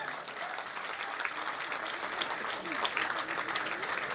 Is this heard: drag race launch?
no